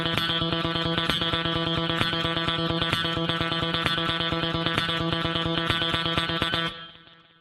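Distorted electric guitar plays two measures of fast thirty-second notes, a continuous machine-gun stream of evenly picked attacks with effects, loud and alone, then stops and rings briefly.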